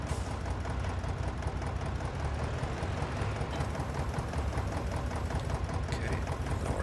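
The engine of a heavy tractor in a farming video game runs at a steady, low, droning idle throughout, with a constant mechanical rumble and faint speech in the background.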